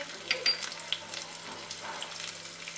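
Chopped green chilies dropped into hot oil with crackled mustard seeds and cumin, a soft close sizzle with a few sharp pops near the start.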